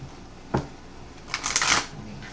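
Tarot cards shuffled close by in a couple of quick riffling bursts, a brief flutter and then a longer crisp rustle, heard alone without talk.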